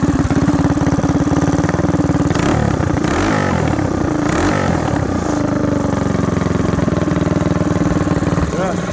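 A Predator Hemi 212 small engine fitted to a bike idles loud and close, a steady fast mechanical chug with a brief rev in the middle, with a voice heard over it.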